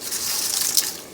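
Spices, cloves, a cinnamon stick and sorrel flowers dropped into a pot of boiling water give a steady bubbling, rushing wash with a brief splashy burst near the end, close and fairly loud.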